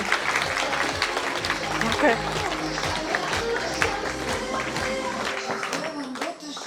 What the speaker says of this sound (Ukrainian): Зустрічаємо гучними оплесками.